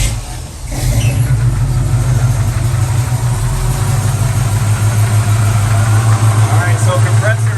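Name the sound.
air conditioning compressor starting and running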